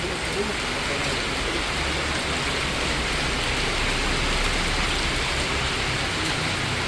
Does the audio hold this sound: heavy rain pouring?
yes